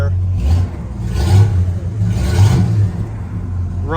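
A 1969 Buick LeSabre convertible engine runs close by, a low, steady rumble that swells in a few gentle rev-like surges, with a voice talking over it.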